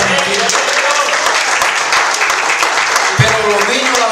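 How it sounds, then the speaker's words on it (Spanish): A church congregation applauds for children during a Spanish-language service, a steady broadband clatter of many hands filling the whole stretch at close range, with a brief louder thump near the end. "hermanos, den un aplauso a esos niños que no están aquí."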